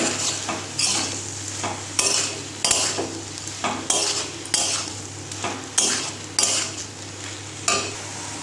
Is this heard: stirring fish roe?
yes